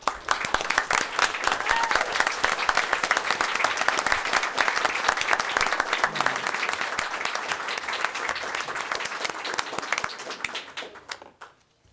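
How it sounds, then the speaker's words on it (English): Sustained applause at a board of education meeting for a staff member retiring after years of service, many people clapping loudly and evenly for about ten seconds before it fades out at the end. "she needs to be applauded"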